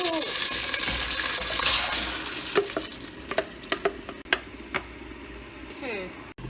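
Adobo chicken ingredients are poured into a hot pot, setting off a loud sizzle that fades, followed by a run of sharp clinks and stirring knocks.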